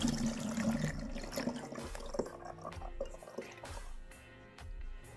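Citrus-infused vinegar cleaner is decanted into a spray bottle, giving a close, continuous trickle and drip of liquid that fades toward the end.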